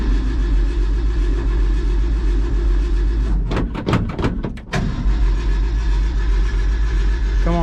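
A 1970 Ford F250 truck engine idling loudly and steadily up close, with a brief burst of knocking and clunking mechanical sounds in the middle before the even idle continues.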